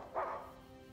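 A dog gives a single short, faint bark in the video game Uncharted 4, over a low, steady background hum.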